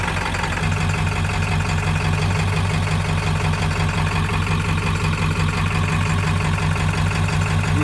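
A truck engine idles loud and steady, a constant low rumble with no change in pace, heard up close.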